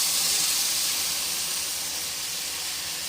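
Tamarind water poured into a hot fish curry in the pan sets off a steady, loud hiss and sizzle, close up, with no talking.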